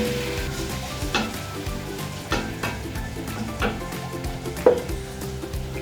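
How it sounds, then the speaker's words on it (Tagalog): Pork seasoned with pepper and salt sautés in a pan with tomato, a steady soft sizzle broken by occasional stirring clinks and scrapes, heard close and alone. "hayaan ko lang maluto yung pork kasama yung mga ingredients natin ng kaunti. Para siyang ginigisa din doon"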